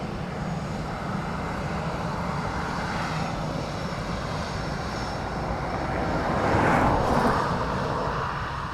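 A Ryanair airliner at Dublin Airport on runway 28 left, its engines a broad, steady roar that swells slightly toward the end, heard from a distance with no talk.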